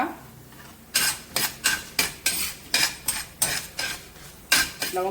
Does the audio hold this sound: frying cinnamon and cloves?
yes